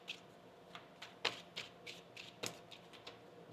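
A deck of tarot cards being shuffled by hand, with a series of soft, crisp riffling bursts and taps at irregular intervals, close and fairly quiet, with no talking.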